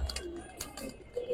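Giribaz pigeons give a brief, faint cooing with soft low coos and a few short sharp sounds over a quiet background, no voices.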